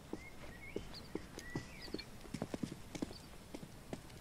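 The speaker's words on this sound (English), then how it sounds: "Hear multiple footsteps." Several footsteps in Counter-Strike: Global Offensive, a steady run of light, clip-clop-like thuds at moderate distance, with faint chirping tones in the background.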